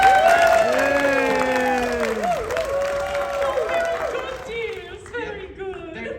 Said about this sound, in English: So, let's practice, everyone. Ready? Applaud!